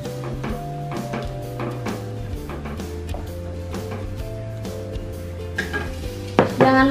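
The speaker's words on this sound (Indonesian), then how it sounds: "Sekarang langsung aja kita masukkan dagingnya." Beef being tipped into a pan of sautéed spices for beef kwetiau soup and stirred, with a steady low sizzle, a utensil repeatedly clanking against the pan, and a few sharper scrapes near the end.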